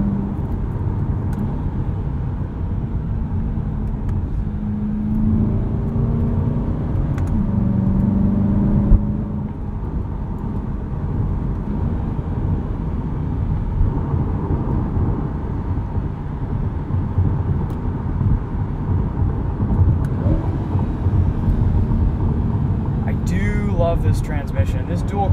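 A 2020 Chevrolet Corvette C8 Stingray coupe drives on a backroad, its engine droning and pulling hard with shifts under a steady road roar, with a voice talking over it from inside the car.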